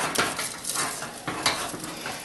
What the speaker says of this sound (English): as you're warming this mixture, you really do want to keep your whisk moving